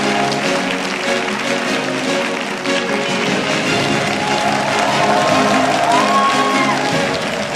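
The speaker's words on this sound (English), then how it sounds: "let's invite Chairman Yoon to her opening remarks with a big round of applause" Audience applause at the opening of the 2023 International Women's Peace Conference, greeting the chairwoman's opening remarks; a steady, full round of clapping from a large hall that holds at an even level throughout, with some crowd murmur mixed in.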